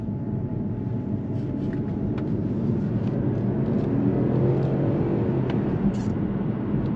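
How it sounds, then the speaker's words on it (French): Petrol engine of a 220-horsepower BMW X2 25e plug-in hybrid SUV in M Sport trim, a steady low hum and road rumble heard from inside the cabin while driving, constant and moderately loud throughout. "Donc voilà, le moteur thermique a démarré."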